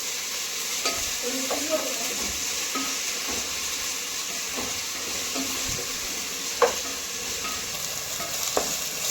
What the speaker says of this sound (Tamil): அந்த மாதிரி வர அளவுக்கு வதக்கி எடுத்துக்கலாம் புதினா மல்லி